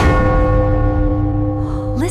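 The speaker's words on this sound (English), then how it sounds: "Then ring the bell together!" A large city bell, pulled together by several people, gives one deep strike that hums on with a long, slowly fading ring. It is loud and close, with a faint higher sound near the end.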